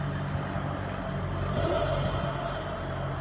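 A children's battery-powered ride-on toy car runs with a low, steady electric motor whir and drive hum that continues without a break, close to the microphone.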